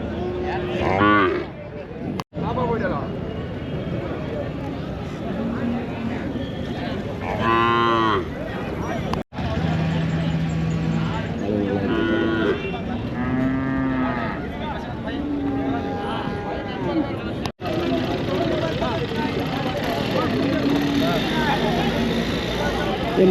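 Calves and cattle at the Anthiyur cattle market moo repeatedly in long, drawn-out calls, several animals overlapping near and far against a busy market din, while people talk throughout.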